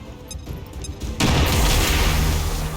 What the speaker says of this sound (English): I'm gonna throw a grenade here.